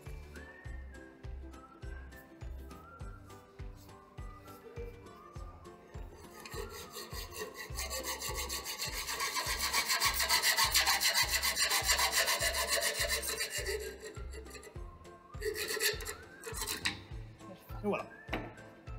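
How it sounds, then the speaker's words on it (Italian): Manual hacksaw cutting through wood in steady back-and-forth strokes, rhythmic and close, growing harsher and louder mid-cut before easing off, with music playing underneath. "Per tagliare utilizziamo un seghetto manuale con sega a ferro."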